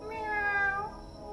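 A person imitates a cat's meow, a single drawn-out, tonal mewing call delivered close and fairly loud, rising and then tapering off over about a second, with no other talk.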